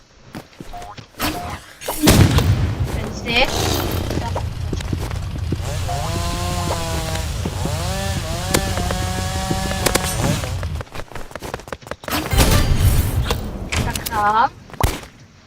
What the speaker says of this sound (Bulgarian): после го цепя с резачката